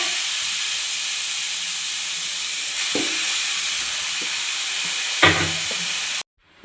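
Grated carrot fries in ghee in a pan over medium flame, giving a loud, steady close sizzle with a couple of brief stirring scrapes before it cuts off abruptly.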